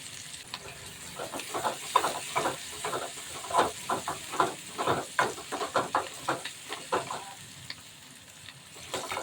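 Onions, curry leaves and asafoetida frying in oil for one-pot sambar rice, a steady close sizzle with rhythmic bursts of stirring throughout, no voices.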